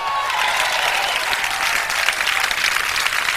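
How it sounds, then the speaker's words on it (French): Studio audience applause on a live French television show, a loud, continuous roar of many hands clapping that stays dense and even from start to finish. "On l'applaudit."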